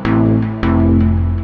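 A synth chord from Massive X, played in Maschine chord mode, sounds twice: a loud, full sustained chord with a bright attack, retriggered once partway through, close and alone.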